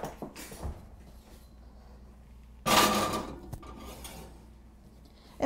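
Clattering metal and a thud as a quiche crust loaded with pie weights goes into a kitchen oven, one sharp clank in the middle followed by softer rattles and a final knock.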